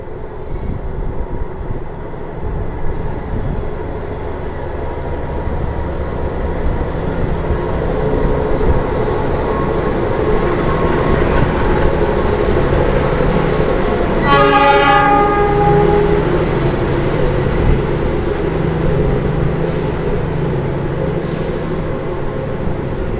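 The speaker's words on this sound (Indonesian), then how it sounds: "Ini kereta api Tegal Bahari barusan sampai teman-teman" Tegal Bahari passenger train pulling into a station, a steady loud rumble of rolling cars with a brief two-tone horn blast sounding midway through, no voices.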